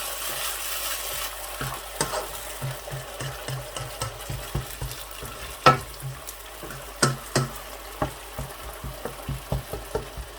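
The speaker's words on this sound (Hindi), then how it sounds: "इस तरीके से अच्छी तरह से मिक्स कर देंगे टमाटरों को।" Tomatoes are stirred into masala chicken frying in a pan, producing a soft sizzle under repeated rhythmic scraping and knocking strokes from a spoon, some sharper clacks standing out, and no talking.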